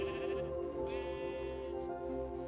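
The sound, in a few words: sheep bleating in Minecraft video game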